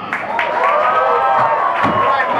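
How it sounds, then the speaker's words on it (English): Stand-up comedy audience at Running Aces cheering, whooping and clapping as the comedian Touger Xiong is welcomed, a loud dense burst of crowd noise with shouts rising over the applause. "So everybody give a big round of applause for Touger Xiong"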